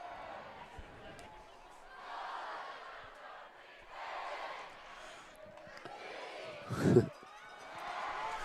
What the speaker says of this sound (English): Full Saints cheer.